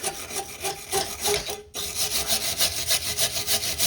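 A brush is scrubbed hard back and forth over corroded car battery terminals on a 2008 Pontiac Torrent. The rasping strokes are steady, loud and close, with one brief pause before the strokes resume.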